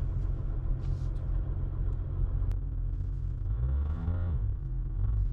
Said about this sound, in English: We'll go into drive. And we'll take this guy out for a spin.